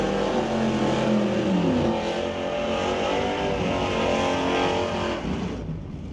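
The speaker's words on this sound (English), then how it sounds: "Chris Stone with a very long burnout in the Stone Cold Racing Dodge Dart" Stone Cold Racing Dodge Dart drag car doing a long burnout at a drag strip, a loud sustained engine roar with shifting revs, fading slightly near the end.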